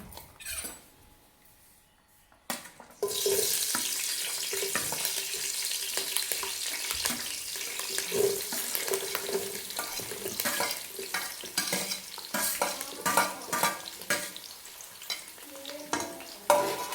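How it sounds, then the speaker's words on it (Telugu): Green chilies dropped into hot oil for a chicken curry hiss into a strong sizzle after a quiet moment, then crackle on steadily, with stirring scrapes and clatter from the pan. "ఆయిల్ వేడెక్కిపోయింది నేనైతే మిర్చి వేసుకుంటున్నాను"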